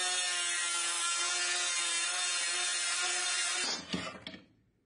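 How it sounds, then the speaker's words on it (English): A power drill widens a 3 mm hole to 5 mm while building a prop rifle from scrap materials: a loud, steady, whining drone runs for almost four seconds, then cuts out with a few brief knocks as it winds down. "Now I drilled a 3 millimeter hole, and what I do now is widen it up."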